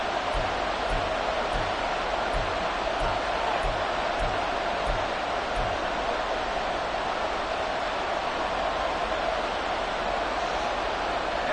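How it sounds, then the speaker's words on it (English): Football stadium crowd cheering and roaring during a goal-line stand, a dense, steady, loud wash of voices that continues throughout without letting up. "This crowd doing all they can."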